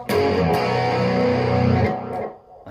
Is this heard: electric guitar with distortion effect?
yes